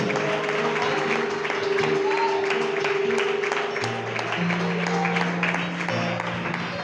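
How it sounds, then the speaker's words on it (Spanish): A church congregation applauds during a Spanish-language sermon, steady dense clapping with crowd noise, held under a sustained organ or keyboard chord throughout. "Aplaude esa tarde para Dios."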